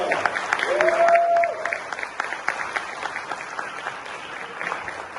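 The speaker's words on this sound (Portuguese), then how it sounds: "salve de palmas para a Margarida" Audience at a software engineering talk show applauding a guest, steady clapping from a modest crowd that starts fuller and thins out while a held musical tone sounds briefly near the start.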